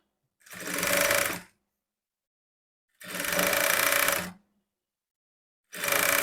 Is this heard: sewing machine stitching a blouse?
yes